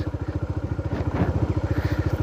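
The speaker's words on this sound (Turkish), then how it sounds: "işte rölantiye bindir motoru şöyle çevir çevir çevir" A Bajaj Dominar 400 motorcycle engine idles close by with a steady, rapid pulsing thump, a brief swell of throttle midway, then settles back into the even idle rhythm.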